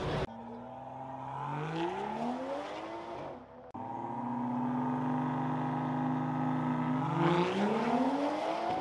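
Tuned stage-one car engine revving hard during a night street race, rising and falling pitch sweeps with a brief drop off the throttle near the middle, then a long loud sustained pull, close and dominant.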